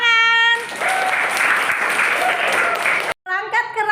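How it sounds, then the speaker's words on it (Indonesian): Applause from a crowd, a dense burst of clapping lasting several seconds before cutting off, with a short tonal sound before and after it. "Tepuk tangan."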